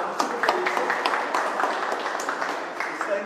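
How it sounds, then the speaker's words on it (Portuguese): An audience applauds at the Bitnation Pangea token sale launch party in São Paulo, a steady patter of clapping from a small crowd at a moderate level, unbroken throughout. "mas um aplauso para vocês"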